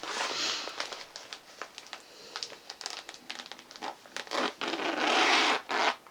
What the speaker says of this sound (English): Sorry for the zipper.